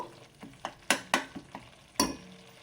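Tomato masala frying in a pan for restaurant-style paneer tikka masala, a series of sharp spoon-scraping stirs and bursts of sizzle, close and fairly loud, no talking.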